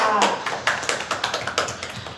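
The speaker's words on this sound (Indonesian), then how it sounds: "Boleh tepuk tangan untuk kalian berdua." Classroom of primary school pupils clapping for two classmates, a quick run of sharp, close hand claps that fades into a looser, uneven rhythm over about two seconds.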